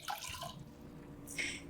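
Water poured for a refrigerator pickle brine, a short splashing pour, then a pause, then a second brief burst of trickling liquid, close and fairly quiet with no talking.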